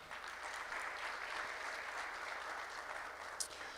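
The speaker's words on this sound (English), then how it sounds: "Ladies and gentlemen, a round of applause to all of our partners." Audience applause for the partners of an EdTech fellowship programme, a steady mass of clapping that holds fairly even throughout, moderately quiet and without talk.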